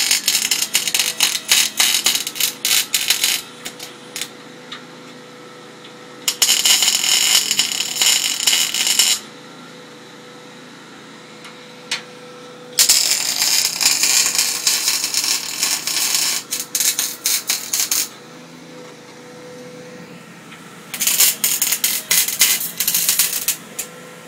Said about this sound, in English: Sounds like it's welding nicely.